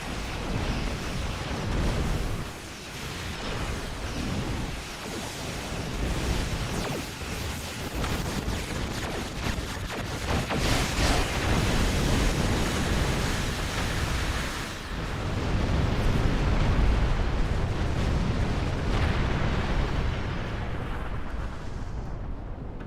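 Enemy weapon fire pounds the starship Liberator in Star Trek Online: a dense, continuous roar of blasts and rumbling impacts stays loud for over twenty seconds, swelling midway and near the end, with no talking.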